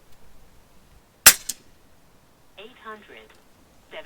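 A single sharp report from an FX Impact air rifle cracks once, loud and close, with a brief second knock after it, followed by a short burst of quiet talk.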